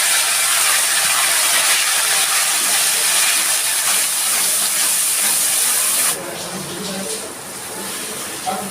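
Onion, garlic and ginger paste hits a hot pan already holding whole spices such as cinnamon and bay leaves, giving a loud, broad sizzling hiss that drops sharply to a quieter frying crackle partway through.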